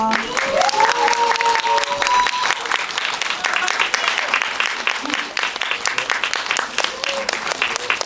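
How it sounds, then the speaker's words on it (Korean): A film screening audience applauds as the director and cast of the Korean film Cabriolet are welcomed on stage, steady, dense clapping filling the room throughout, with a few voices and brief cheers mixed in. "큰 박수로 맞이해 주세요."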